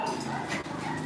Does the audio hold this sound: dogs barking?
yes